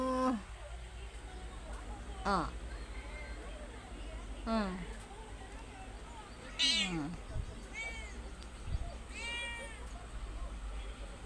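Several cats meow in turn, overlapping calls rising and falling, with a voice talking throughout and a low steady hum underneath.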